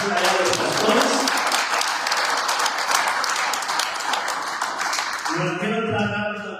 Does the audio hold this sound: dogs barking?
no